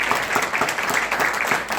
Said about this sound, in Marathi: तर कावळेदादांसाठी आपण सगळेजण टाळ्या वाजवू